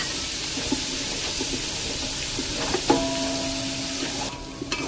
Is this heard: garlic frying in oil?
yes